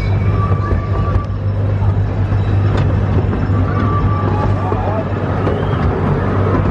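Ride aboard a small theme park train at Gulliver's World in Warrington, with a steady low rumble and hum of the running train throughout, while people talk over it.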